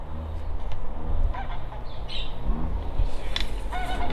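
Birds call intermittently over a low, steady outdoor rumble near a home balcony, with a few honking, fowl-like cries standing out near the middle and toward the end.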